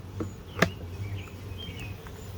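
A few honeybees hum faintly around a beekeeper's gloves, which have holes in them; the thin buzz drifts in and out, with one sharp click near the start.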